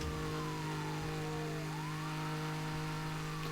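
A car boosting down a straight in the racing game Need for Speed Hot Pursuit on Nintendo Switch, a steady engine drone with a sustained low hum and gliding whine-like tones above, holding even and fairly quiet with no talk.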